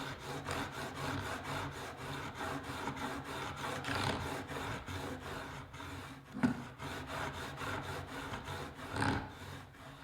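A knife blade is stroked across an Ash & Co 1000 grit diamond sharpening plate in a run of close, even, rhythmic rasping passes, one soft scrape after another, with no talking.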